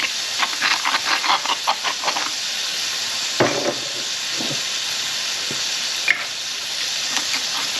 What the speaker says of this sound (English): I'm just going to let them cook in the bacon fat until they're cooked